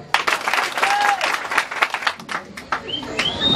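Crowd applause with scattered clapping bursts up at a Tanzanian graduation gathering honouring a pastoralist graduate, loud and close for a few seconds, with a couple of faint bird chirps above.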